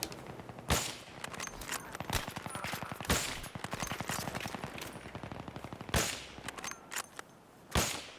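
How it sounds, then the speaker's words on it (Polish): SKS rifle fire in Battlefield 3: sharp separate single shots spaced about a second apart, with bursts of rapid automatic gunfire from other weapons rattling between them in a busy multiplayer battle. "SKS. To też jest dobra pukawka."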